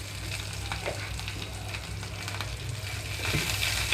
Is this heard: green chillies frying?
yes